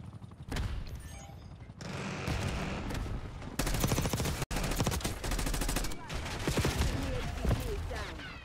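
Heavy gunfire in Call of Duty: Black Ops 6: dense, loud rapid bursts of automatic fire and shots overlap almost continuously, with game voice callouts mixed in.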